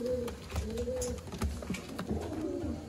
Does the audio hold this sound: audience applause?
no